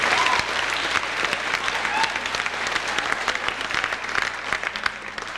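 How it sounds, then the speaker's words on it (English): Full, steady applause from an awards banquet audience celebrating a divisional champion team, loud and continuous with a few sharper claps close by and faint voices mixed in. "that in itself deserves a round of applause"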